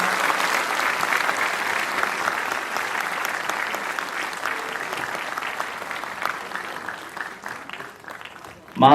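A crowd claps at a Christmas day ceremony in Nepal, the dense, even patter of many hands continuing steadily, thinning slightly toward the end before a sharp louder jolt right at the close.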